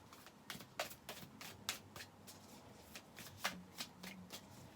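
A Starseed Oracle card deck is shuffled by hand in quiet, close, soft riffling and flicking with repeated sharp card snaps at an uneven rhythm, with no talking.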